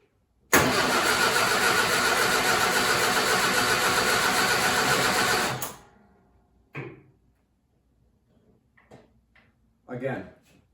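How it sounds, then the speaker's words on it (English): A 1950s-style MG TF sports car engine cranks and catches with a loud, steady roar lasting about five seconds before cutting off abruptly, followed by a few brief voices nearby. "Let's hit the starter and see what happens."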